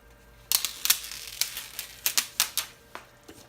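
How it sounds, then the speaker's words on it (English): Printed heat transfer vinyl peeled off its clear backing, a quick series of about a dozen sharp crackling snaps close by, with brief pauses between them. "then you're gonna peel it off"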